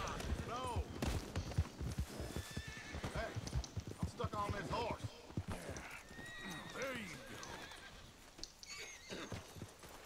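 Horse hooves clip-clop in a quick rhythm as a horse neighs and whinnies repeatedly in Red Dead Redemption 2, with voices talking over the action throughout.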